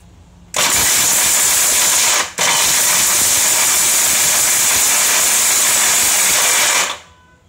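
A Philips HL7699 750-watt mixer grinder crushing coconut at first speed: a loud, steady motor whir with a gritty hiss, cut briefly once, then running on before it stops.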